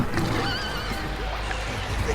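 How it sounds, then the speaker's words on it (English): Terrified horses neigh and whinny in a radio-drama battle scene, a couple of shrill drawn-out cries rising over a dense, steady din of fighting and commotion, with hooves clopping beneath. "The Kilorman horses are mad with terror already."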